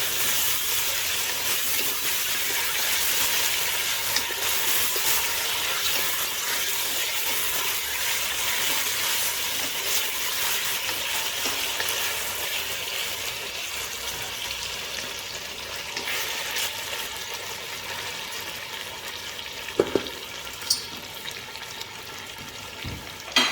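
Mutton for Arabian white kabsa cooks in a pot, giving a steady hiss of frying and sizzling that stays fairly quiet and continuous, with a few faint clinks toward the end.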